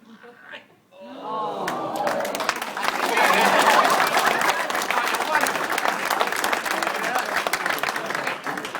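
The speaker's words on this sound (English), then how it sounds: "then we can all clap at the same time" A theatre audience at a comedy variety show breaks into loud, sustained clapping that swells and holds steady, with cheering voices mixed in after a brief spoken moment at the start.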